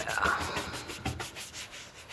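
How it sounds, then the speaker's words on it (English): Mold is scrubbed off a surface on an old car being revived, with soft, close rubbing strokes in a short rhythmic run. "So I'm scrubbing off all this mold now, and like it's pretty satisfying to do."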